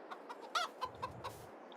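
Chickens clucking on a farm in Farming Simulator 22, a handful of short separate clucks and squawks close by over a quiet background, with no talk.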